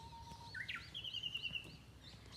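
A bird calls in a forest: a brief chirp followed by a thin, whistling trill, faint and somewhat distant over low background rumble.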